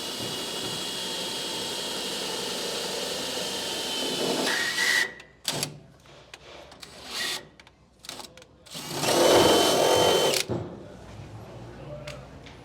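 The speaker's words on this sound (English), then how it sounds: "drill up through the bottom of the bed." A drill bores a 1/4 inch hole up through the bottom of a 2011-2016 Ford F350 truck bed, a steady whining drone that cuts off abruptly, then several short bursts and a longer loud run close by.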